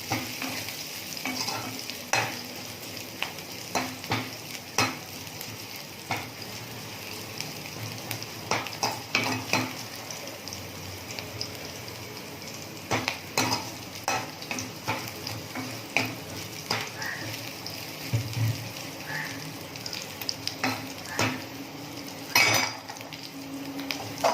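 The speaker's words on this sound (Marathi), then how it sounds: "तर आता हे मी फ्राय करून घ्यायचं आहे" Frying and stirring in a pan before horse gram flour goes in for kulith pithla, a continuous sizzle under frequent scraping and clinking of a spatula against metal, close and moderately loud, with no voices.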